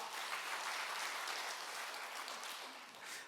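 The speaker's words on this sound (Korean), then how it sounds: "우리 한번 박수합시다." A church congregation at a revival service applauding together, a dense, steady wash of clapping from many hands that holds evenly throughout, fairly distant and without talk.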